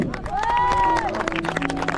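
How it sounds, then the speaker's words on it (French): Applause and crowd noise fill a hall at the Blois ULM show for a French paramotor team, a dense clatter of clapping with a sustained whistle-like tone rising over it. "j'aimerais un tonnerre d'applaudissements pour tous ces pilotes"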